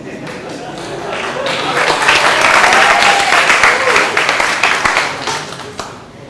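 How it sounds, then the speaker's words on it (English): An audience claps during a lecture on emotional intelligence. The applause swells quickly into a dense, loud wash of many hands, holds, then tapers off near the end, with a few voices mixed in. "Come, everyone, clap for me."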